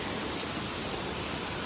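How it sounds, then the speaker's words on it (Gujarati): Heavy rain pours down, a dense, even hiss of drops on surfaces that holds steady throughout without any talk. "બહુ જ વરસાદ છે ગાઈસ."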